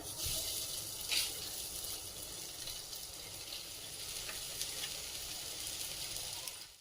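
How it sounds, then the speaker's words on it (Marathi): Leftover rice cutlets with sesame seeds shallow frying in oil, a soft, steady sizzle at low level with a brief louder crackle early on. "त्यामध्ये तेल टाकून घेऊया, तीळ टाकूया आणि हे तयार केलेले कटलेट त्यावर ठेवूया"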